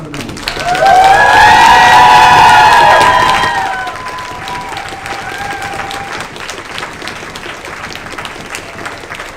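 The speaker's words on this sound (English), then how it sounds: "please, huge round of applause for Adels Mikalova from" Crowd at a conference in Brno breaking into loud applause with cheering and whoops for a newly elected vice president. It swells quickly, peaks for a few seconds, then thins to lighter, steady clapping.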